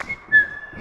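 A single sustained whistled note, steady in pitch and fairly clear, held for most of a second with a little background murmur.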